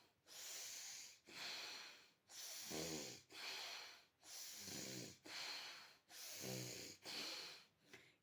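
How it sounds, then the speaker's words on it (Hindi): Forceful breathing through one nostril during anulom vilom pranayama: eight sharp, rhythmic hissing breaths evenly spaced and close, some with a snorting rasp, no talk. "ऐसे एक नाक को दबाइए और दूसरे नाक से तेज़ी ते खींचिए साँस को।"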